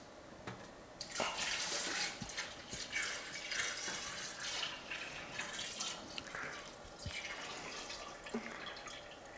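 Cranberry mead being poured into a sink, a bright splashing trickle that runs steadily for several seconds with small drips and gurgles, close and clear with no talking.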